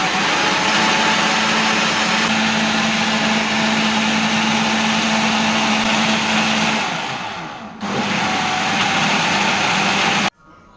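A kitchen mixer grinder whirs loudly and steadily as it blends mango pulp with sugar, its motor pitch sagging near the end before a short restart and an abrupt stop.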